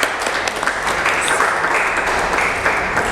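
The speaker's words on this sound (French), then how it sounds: "Donc voilà, on l'applaudit s'il vous plaît" An audience claps steadily for a sound-system partner at a ceremony in Burundi, a continuous wash of moderately loud applause with no pause.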